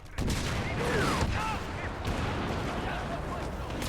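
Blaster fire in Star Wars Battlefront, a busy volley of overlapping game shots and booms that is loud early and tapers off, with a faint voice speaking underneath.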